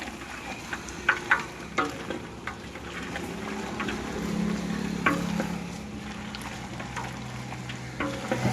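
Village-style pork fry being stirred in a pan over heat, a soft continuous sizzle with scattered scraping clicks of the spatula and a brief swell of frying noise in the middle.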